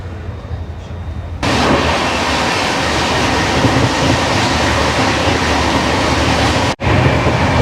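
The 12002 Bhopal Shatabdi Express rolls along the rails with a steady loud rumble and rattle, rising sharply after a quieter start, with a brief dropout near the end.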